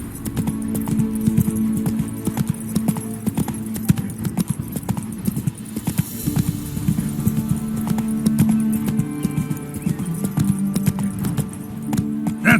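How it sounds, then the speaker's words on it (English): Geralt's horse gallops in The Witcher 3, its hooves beating a continuous, fairly loud clip-clop rhythm across the whole stretch. "Run, Roach."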